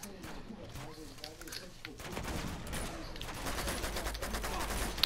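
Gunfire in Uncharted 2: Among Thieves comes as rapid bursts of shots that build into a sustained, loud barrage in the second half, while a voice talks excitedly over it.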